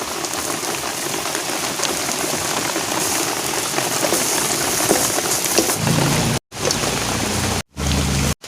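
Steady heavy rain drums on the roof of a small hut while an omelette cooks, a dense continuous hiss broken by a few brief gaps near the end.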